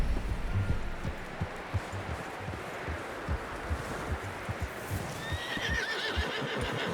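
A horse whinnies and snorts in Red Dead Redemption 2 amid steady hoof clip-clop on a trail. The hoofbeats run throughout, and a higher whinny rises near the end.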